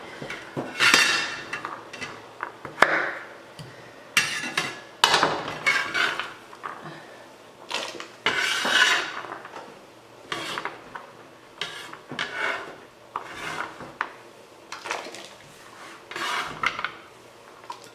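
Chopped carrots go into a pot for Greek avgolemono lemon chicken soup, making a series of close, irregular clattering and knocking bursts against the metal, with rubbing and scraping between them.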